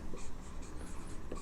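Chalk or marker scratching out chemical formulas on a board in short, quiet strokes and taps, close by in a hushed room.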